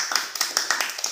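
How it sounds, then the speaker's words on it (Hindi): A few people clap at a family gathering, a sparse, irregular run of close, light hand claps alone for about a second. "तो हमारी बेटी रीम के लिए बहुत सारी तालियां।"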